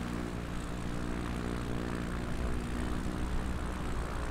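A propeller aircraft drones loud and steady as it descends on final approach to land on runway 23, a continuous engine roar with pulsing low harmonics heard from inside the cabin.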